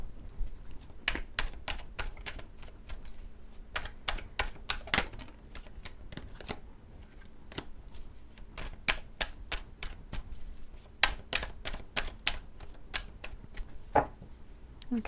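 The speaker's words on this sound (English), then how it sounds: "Let me pull out some cards onto a love reading." Tarot cards being handled and shuffled for a love reading, a long run of quick crisp slaps and riffles in irregular bursts, close and fairly quiet, with no talk over them.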